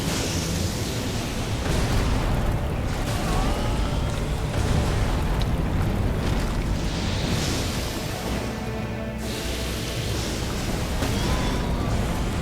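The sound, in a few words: boss follow-up explosions in the video game Elden Ring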